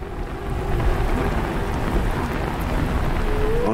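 Heavy rain and a thunderstorm in the video game Beautiful Desolation, a dense, steady roar of downpour with low rumbling thunder underneath, loud and continuous throughout.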